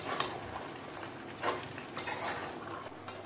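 Chicken curry with garam masala stirred in a pan, a utensil scraping and clinking against the metal at a few scattered moments over a faint low sizzle, close and moderately quiet.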